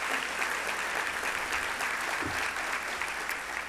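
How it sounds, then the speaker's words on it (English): A crowd applauds distinguished guests at a State of the City event held at Rivers Casino, a full, sustained roar of clapping at steady loudness throughout, with no voices over it. "let's give all of our distinguished guests a round of applause"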